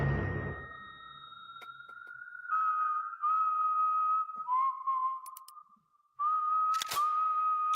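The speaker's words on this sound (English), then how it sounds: "Oh, the whistle of the American theme." A lone whistled melody, the American theme in a movie trailer, carries clear sustained notes with short breaks and a few sharp clicks and hits, close and prominent with no talking.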